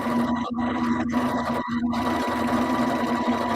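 A sewing machine runs continuously up close with a steady low motor hum and rhythmic needle chatter, loud and alone with no voices.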